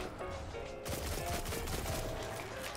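The Traveler's Chosen sidearm fires in Destiny, a fast burst of rapid shots that blurs into a continuous rattle of gunfire, loud and close, over faint in-game ambience.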